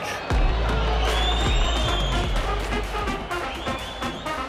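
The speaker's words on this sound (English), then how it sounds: "the roar of the crowd is about to reach a fever pitch" A football crowd at a Chattanooga FC versus Crown Legacy FC match roars as a steady, dense wash of noise, with distant voices and a couple of high whistles rising above it throughout.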